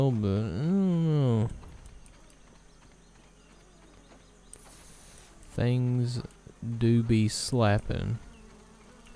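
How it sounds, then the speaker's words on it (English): Buzzing of a bee in the video game Grounded, rising and falling in pitched wavering drones that come and go in several bursts, with a person talking in between. "Oh, there's a bee."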